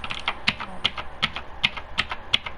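Computer keyboard keys clack in quick irregular bursts close by during a gaming setup, sharp clicks and taps sounding alone without talk.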